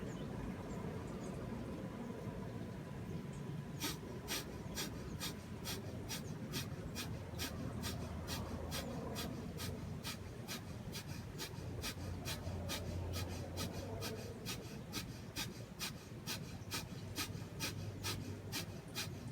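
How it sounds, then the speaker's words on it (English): Rapid breath of fire pranayama, with sharp, crisp exhalations in a fast, steady rhythm that repeats close to the microphone for the whole stretch over a constant background hiss. "especially if you're new to breath of fire"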